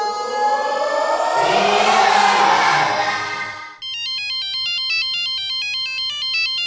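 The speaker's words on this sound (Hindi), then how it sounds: "रात को कौन फोन कर रहा है यार?" A phone ringing at night during a Hindi comedy sitcom scene: a burst of noise gives way to a loud electronic ringtone that warbles and repeats steadily until the end.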